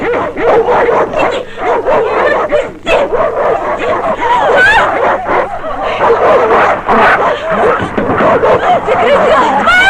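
In a Turkmen feature film, a pack of dogs barks and yaps over nearly ten seconds in a loud, dense, overlapping clamor, mixed with shouting voices.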